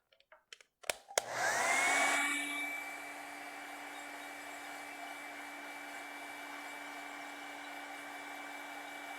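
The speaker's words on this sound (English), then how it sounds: "Let's take the hairdryer to it." A handheld hair dryer clicks on and settles into a loud, steady whirring whine aimed at wet acrylic paint on a Van Gogh-style autumn landscape canvas. It runs continuously, with no talking over it.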